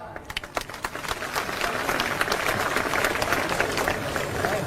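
A crowd at a political campaign rally in Nagina, India breaks into applause, scattered claps at first swelling into steady, dense clapping that continues to the end.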